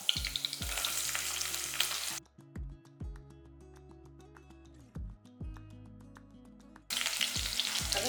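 Small shallots and curry leaves sauté in a pan with a sizzle, as a spatula scrapes and turns them in repeated strokes, under steady background music.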